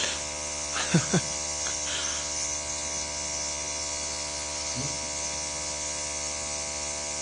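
A small airbrush compressor for fine detail work hums steadily throughout, with a couple of brief louder bursts near the start and a faint knock later.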